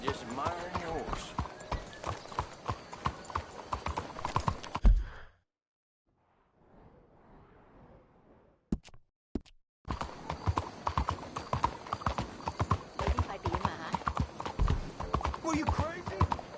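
Horse hooves clip-clop in a Western video game, a steady near trot under continuous talk and background sound, dropping out into near silence for a few seconds before resuming just as busy.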